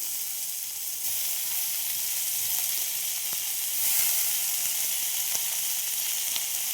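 Chopped onion, ginger and garlic sizzle in hot oil in a pan, a loud, steady frying hiss with a few faint clicks from stirring.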